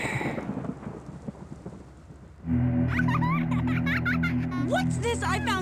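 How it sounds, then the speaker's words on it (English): Rolling thunder with rain opens a car radio ad in the video game GTA: Vice City, then cuts sharply to louder music with voices over it. "Because after you get struck by lightning, there's thunder."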